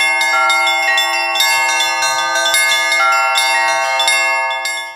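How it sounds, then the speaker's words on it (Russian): Church bells ringing on a morning in a Russian village, a bright clear peal of several overlapping strikes in an irregular rhythm, alone and loud, fading out at the end. "Колокольным звоном и молитвой встречают это утро жители Старозолотовского"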